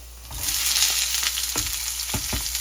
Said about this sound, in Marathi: टाकतोय चॉप्ड केलेले अनियन्स